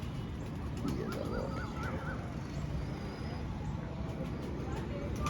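Soft pigeon coos drift in and out over a dense background of chatter and distant traffic rumble.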